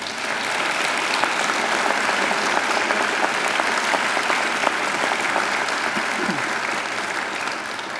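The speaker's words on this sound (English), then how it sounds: "I think Angela deserves another great round of applause." Audience applause at a university graduation ceremony, a steady dense clapping that carries evenly through the whole stretch at full strength, with no talking over it.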